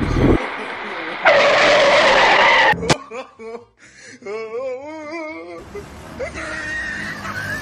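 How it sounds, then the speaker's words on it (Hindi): A car skids toward the listener with loud tire squeal and screeching, engine roar building as it approaches, then a sharp impact-like burst before a whimpering voice and further squeals. "अरे सामने से हट जाओ, पीछे वो गाड़ी आ रही है।"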